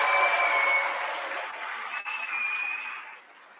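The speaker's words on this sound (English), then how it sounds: "let's give them applause" A room at a civic awards ceremony claps for the staff in moderate applause that holds steady, then thins and fades near the end, with faint tones and murmuring in the background.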